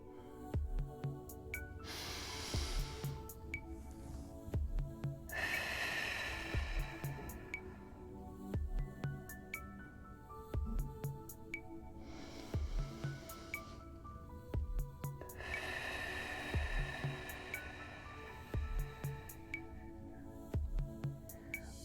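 A slow, deep breathing exercise with long drawn inhales and exhales in repeating cycles over a soft, steady musical background with faint rhythmic beats.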